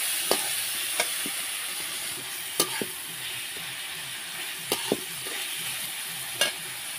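Green chilli, tomato and onion cook in a pan for prawn curry, giving a soft, constant sizzle broken by several sharp clicks and taps of a spoon stirring against the pan, close and with no talking.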